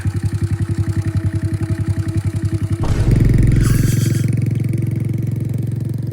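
A motorcycle engine idles with a steady chugging pulse, then revs up and settles into a louder, continuous drone close by.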